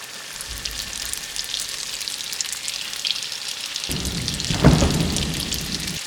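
Continuous crackling sizzle of pastries frying in hot oil, close and steady, with a low rumble joining partway through.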